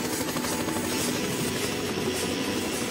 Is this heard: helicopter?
yes